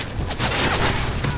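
Rapid bursts of gunfire from Call of Duty Modern Warfare 3 crack out in a dense, loud fusillade of overlapping shots throughout.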